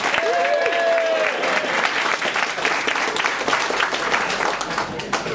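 A live café audience cheers and applauds for Lisa Berman, dense clapping throughout with a rising whoop of a voice at the start and crowd noise carrying on steadily.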